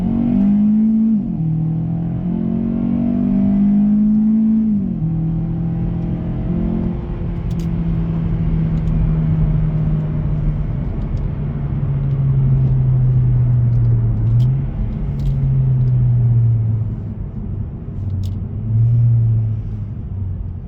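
2018 Hyundai Elantra with a naturally aspirated 2.0 engine accelerating hard from inside the cabin, engine note climbing through gears with brief dips at each shift, a steady loud drone over road rumble.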